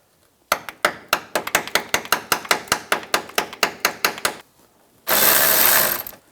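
A quick series of about fifteen sharp metallic hammer strikes driving a socket onto rusty bolts of a 2004-2009 Toyota Prius, in a steady rhythm, close and loud, followed by a brief pause and a burst of harsh noise.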